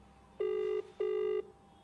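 A telephone ringback tone sounds twice on a call, two steady electronic buzzing tones of about half a second each with a short gap between them, clear and close.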